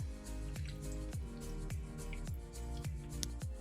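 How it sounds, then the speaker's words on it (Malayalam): Momo dough mixed with water is kneaded by hand in a quiet, regular rhythm of soft, wet squishing presses, roughly two per second. "നമ്മളിനി വെള്ളം ഒഴിച്ച് നമ്മൾ കുഴച്ചെടുക്കണം"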